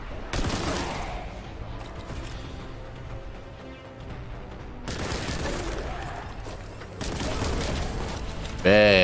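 Rapid bursts of gunfire ring out in the Warhammer 40,000 Boltgun video game, with a loud blast as an enemy explodes. The shooting comes in heavy volleys with a short lull between them, and someone talks over it.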